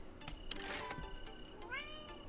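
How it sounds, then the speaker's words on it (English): A pet cat meows loudly indoors, a couple of drawn-out, rising yowls close to the microphone, with a faint background hum and no talking. "Stop yelling at me, kitty."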